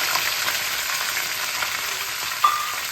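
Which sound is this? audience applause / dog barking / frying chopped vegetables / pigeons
frying chopped vegetables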